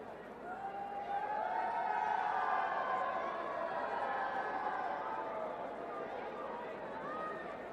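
Large stadium crowd at a Bangladesh vs Pakistan Test cricket match, a steady broad roar of chatter and cheering rising and holding throughout, with no speech over it.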